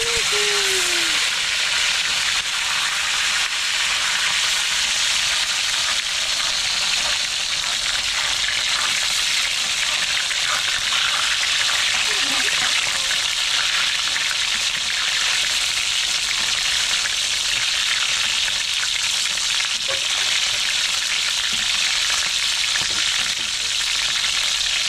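Tilapia fries in a pan of hot oil, a dense continuous sizzle and crackle lasting throughout, with faint speech now and then beneath it.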